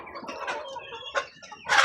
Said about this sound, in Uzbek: Adlerskiylarimiz xo'rozlari qichqirgan, yirik katta xo'rozlar